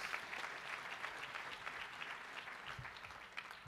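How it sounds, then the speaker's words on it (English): A big final round of applause at a high-level Open Government Partnership event at the UN General Assembly, as a large hall of delegates claps steadily and continuously, moderately distant and even throughout. "Please join me in a big final round of applause"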